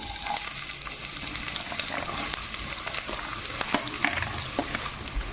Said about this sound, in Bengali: আর কেটে রাখা পেঁয়াজ কুচি দিয়ে দেবো।